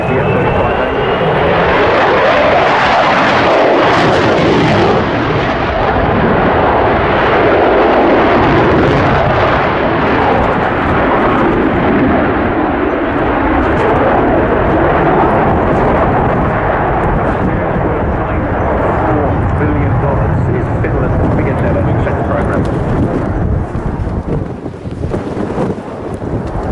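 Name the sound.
F-35A fighter jet flying display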